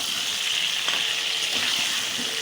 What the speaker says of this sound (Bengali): কেটে ধুয়ে রাখা আলু তেলের ওপর দিয়ে দিলাম। দিয়ে আলুগুলোকে খুব ভালো করে ভেজে নিতে হবে।